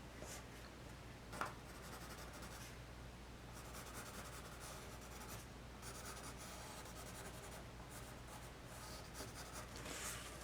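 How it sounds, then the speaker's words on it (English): A pencil scratches steadily across a paper towel pattern for plush pants, a soft, close, continuous rubbing of graphite marking a line, quiet and alone with no talking. "I'm just going to mark a 3/4 inch line at the top."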